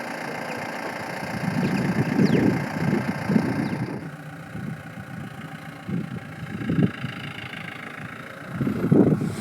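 A Bolero pickup truck engine idles and revs at a nomad winter campsite. The rumble is moderate and uneven, swelling in several short surges with no speech.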